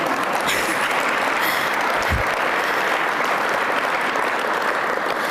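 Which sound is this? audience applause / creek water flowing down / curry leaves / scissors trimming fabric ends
audience applause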